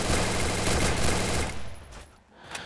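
Sustained automatic fire from an MP40 in the Free Fire battle royale game, a dense loud burst of rapid shots for about a second and a half, then thinning into scattered quieter shots and fading.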